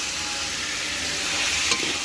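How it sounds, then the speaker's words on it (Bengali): Flat beans and green beans sizzle in a pan while being stirred, giving a continuous close frying hiss with a brief scraping stir near the end and no talking. "এখন ভাজছি বটবটি আর বিনস"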